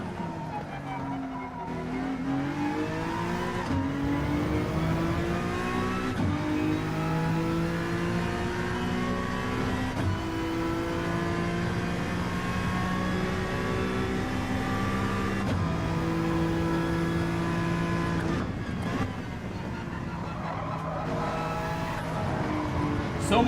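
Race car engines in a racing video game rev hard and shift up through the gears in repeated rising sweeps, loud and close, with tire squeal and a few brief pauses between pulls.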